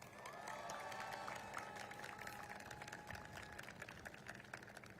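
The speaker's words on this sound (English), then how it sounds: "Please give them a round of applause." A large outdoor crowd at the National Menorah lighting ceremony applauds and cheers, a continuous distant roar of clapping for several seconds, with faint tonal sounds running through it.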